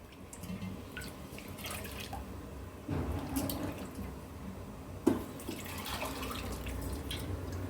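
Water is poured and splashes into a vessel while cooking venthaya kali, a fenugreek dish, with intermittent dripping and trickling, fairly faint and close, punctuated by a couple of louder splashes.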